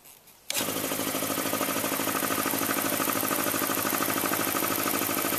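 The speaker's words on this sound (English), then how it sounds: "So what we do is we start the compressor." An air compressor used to lift a 12-metre-deep bore pump starts abruptly and settles into a loud, steady, continuous mechanical drone with a fast regular pulse.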